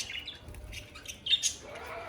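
Cockatiels squawk and chirp in short, shrill bursts, fairly faint against a quiet background.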